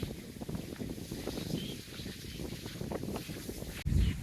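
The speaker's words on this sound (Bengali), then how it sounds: "আজকে বাতাস অনেক বাতাস" Strong wind blows outdoors in a village, buffeting the microphone with a rough, low rumble that swells and dips throughout, ending in a heavier gust.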